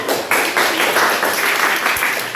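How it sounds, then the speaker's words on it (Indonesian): Steady, dense clapping from a crowd at a talk show on teaching, fairly loud and continuous throughout, with no voices standing out above it. "Tepuk tangan."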